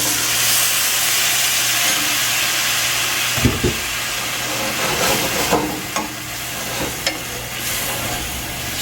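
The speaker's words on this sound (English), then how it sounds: "I'm going to let this simmer for about 5 minutes" A Belizean lobster dish simmers in a pot, giving a steady close hiss and gentle bubbling, with a few soft clinks and stirring knocks partway through and no voices.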